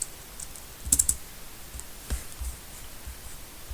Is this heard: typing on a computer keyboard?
yes